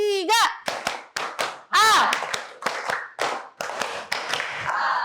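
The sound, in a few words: rhythmic hand clapping in a classroom clapping game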